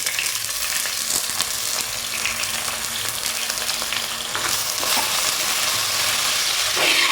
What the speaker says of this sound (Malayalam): ഇനി നമുക്കിതിലേക്ക് ഒരു വലിയ സവാള ഇട്ടു